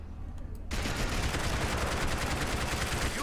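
Assault rifle gunfire rattles through a Max Payne 3 multiplayer team deathmatch on PC, starting abruptly after a brief quiet lull and continuing as sustained, dense automatic bursts at steady loudness.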